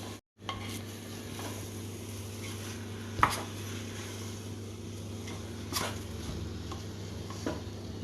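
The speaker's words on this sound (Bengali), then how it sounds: "সব কিছু দিয়ে এখন ভাজা ভাজা করবে।" Khichuri ingredients fry in a pan as they are stirred, giving a faint, steady sizzle over a low hum with occasional sharp clinks and scrapes of the spoon against the pan.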